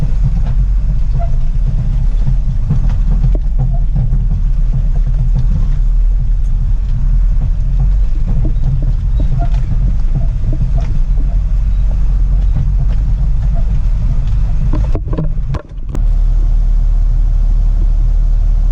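A dump truck with poor shock absorbers rumbles and rattles continuously as it drives over a rough riverside road, with a brief dip in the noise near the end.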